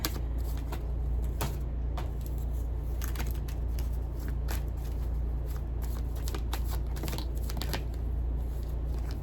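Tarot cards being shuffled during a reading, a steady run of crisp riffling and snapping bursts over a constant low hum, with no talking.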